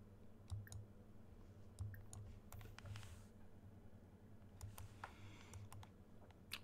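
A Sims 4 character types on a computer keyboard in the video game, with rapid irregular key clicks and occasional louder taps over a low steady hum.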